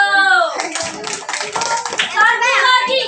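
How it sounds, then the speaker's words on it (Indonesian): Schoolchildren in a classroom clapping their hands together in a short burst of quick, bright claps, with young voices chattering over the clapping. "Beri tepuk tangan dulu."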